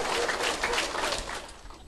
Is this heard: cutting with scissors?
no